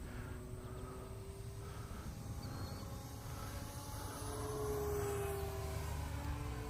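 A model airplane flies inverted, heard as a faint, distant engine drone with a slowly shifting pitch over steady outdoor background noise, growing slightly louder toward the end.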